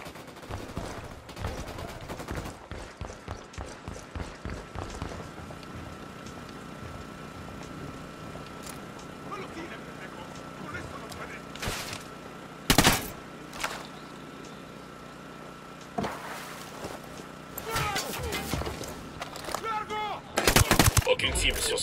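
Gunfire rattles after an order to open fire in a riverine quay setting: rapid bursts and scattered single shots, some sharp and loud, others distant, with occasional engine noise in the background.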